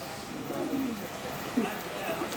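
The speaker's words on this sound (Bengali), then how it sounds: "নতুন আরেক পেয়ার কবুতর নিয়ে চলে আসলাম তো এই পেয়ারটা ন ডাকাডাকি করতেছে" Soft, low pigeon cooing, a few rolling calls close by over a steady background hum.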